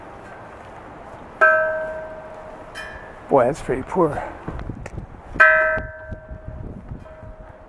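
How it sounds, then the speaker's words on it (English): The big temple bell at Todaiji in Nara, struck twice about four seconds apart, each blow giving a loud, sustained metallic ring with long humming overtones, while someone talks between the strikes. "Now, for the bell that you can ring"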